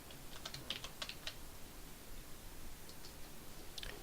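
Keys on a computer keyboard are tapped out quietly in short clustered bursts while a password is entered into a spreadsheet, soft clicks separated by a pause, with no one talking.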